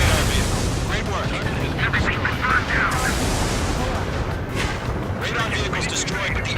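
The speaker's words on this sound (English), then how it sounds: "Mage 2, firing railgun" A railgun fires in Ace Combat 7 in a dense, booming wash of heavy blasts and rumble, loud and sustained, with radio chatter in the mix.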